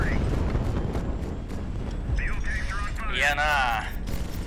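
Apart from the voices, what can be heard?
enemy gunfire hitting fuel tanks, HighFleet video game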